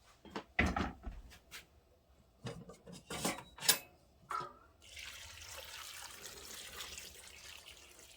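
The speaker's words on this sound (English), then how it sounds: "This is water I already had for my coffee, so I'm just pouring it in there." A few knocks and clunks, then a steady stream of water pouring into a jar for canning kidney beans, continuing for several seconds up close.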